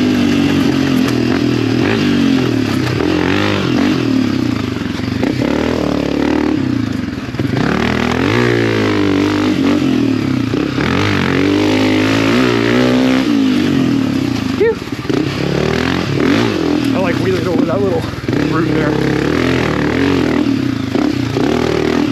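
A Honda CRF250F dirt bike runs laps, its engine loud and continuous close by, rising and falling as the rider revs and shifts, with wind buffeting and some clatter mixed in throughout.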